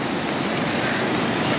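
A river rushes loudly during the monsoon near a 132 kV power line worksite, a steady, dense roar of flowing water filling the scene without a break.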